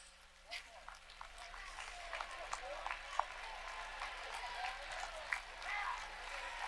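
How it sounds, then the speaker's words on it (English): Audience applause for student athletes honored for academic achievement at a Ball State event, a steady wash of clapping from a large crowd with a few sharper claps standing out. "would you please stand so we can give you a round of applause?"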